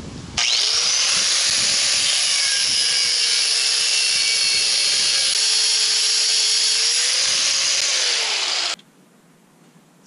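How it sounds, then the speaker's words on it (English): An angle grinder cutting a nub off a steel knob outdoors, a loud, continuous high-pitched whine that starts abruptly, holds steady for about eight seconds with a slight pitch sag mid-cut, then stops sharply. "let's take this outside and get the nub cut off with the angle grinder"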